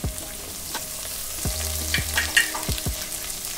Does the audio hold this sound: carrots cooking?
yes